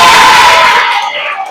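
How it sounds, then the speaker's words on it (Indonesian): A classroom of students applauds and cheers for a schoolmate named Derry, giving a loud burst of mixed clapping and excited shouts that quickly tails off. "berikan aplaus dulu buat Derry"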